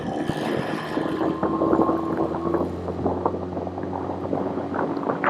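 Outboard motor on a 20HP Tohatsu boat fitted with a hydrofoil and jack plate, opened up toward wide open throttle, a steady loud engine drone with splashing water and wind throughout.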